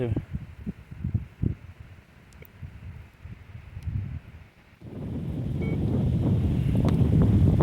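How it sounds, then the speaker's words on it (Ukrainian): Strong wind buffets the microphone over an open field, rough and low at first, then swelling into a steady, loud roar for the second half. "Піднявся дуже вітер"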